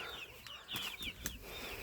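Chickens and young cockerels, including red naked-neck birds, cluck in a backyard coop, several short broken calls scattered close by with brief louder bursts, no talking.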